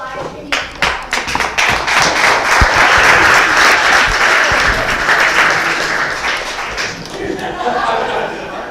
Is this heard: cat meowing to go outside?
no